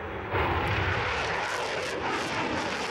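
A SoloTürk jet aircraft passing overhead above Merzifon during an aerial display, giving a loud, continuous broadband engine roar that swells in after a brief moment and holds steady, heard alone.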